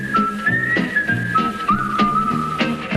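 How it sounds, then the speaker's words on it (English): A bright, melodic whistled tune, wavering up and down in pitch over steady low music, clear and close. "whistle a little tune."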